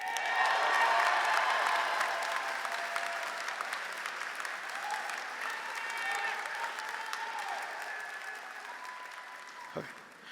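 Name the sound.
applause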